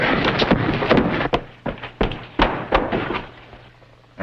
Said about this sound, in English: I had to hit you, Sonny.